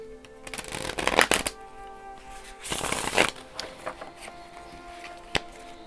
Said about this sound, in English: So now let's shuffle more.